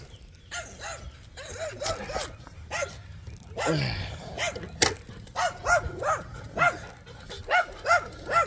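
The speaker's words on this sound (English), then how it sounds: "here's a little weenie dog" A small weenie-type dog, a Chihuahua mix, yaps repeatedly at a cyclist in short, sharp barks that come in uneven bursts, with a brief spoken word mixed in.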